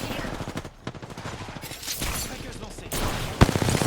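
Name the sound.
gunfire from another team in a video game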